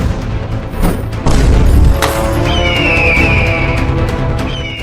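Cannon fired in a comedy sketch about a bandit chief: a deep boom erupts and holds loud for about a second, then a long rumbling tail with a rising whistle-like tone lingers over it.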